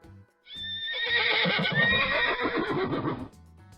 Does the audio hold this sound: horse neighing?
yes